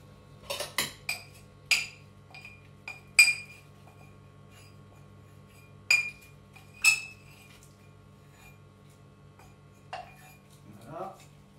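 Malt extract starter being stirred in a pot of water brought to a boil: bright metallic clinks and taps of a utensil against the pot, several in quick succession at first and then spaced out, close with quiet gaps between.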